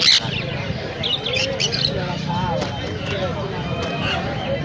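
Harsh, shrill sun conure squawks burst out near the start and recur over a steady murmur of voices and background chatter at a bird market in Naihati, near Kolkata.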